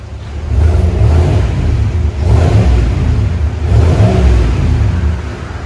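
A GMC Sierra AT4 pickup's 6.2L V8 revs repeatedly through a Flowmaster exhaust, three loud, close throttle blips rising and falling over a deep steady rumble, with no talking.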